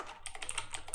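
Fast typing on a computer keyboard while entering a localhost URL into a web browser: a quick, close run of light, irregular key clicks with no voices.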